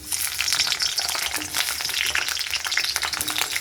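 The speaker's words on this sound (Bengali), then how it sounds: "এই মধ্যে কড়াই গরম হয়ে গেছে, তেল আলুটা ভাজা বসিয়ে দিলাম।" Potato pieces coated in turmeric and yogurt frying in hot oil in a wok, a continuous close, bright sizzle with crackling bubbles throughout.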